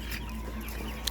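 Broiler chickens cluck in a poultry shed at a farm and hatchery where the birds are suffering from cold; soft overlapping clucks and murmurs from a flock come through a steady low hum, with one sharper call near the end.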